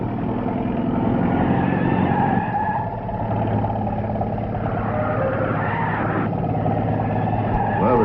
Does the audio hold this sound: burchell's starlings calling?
no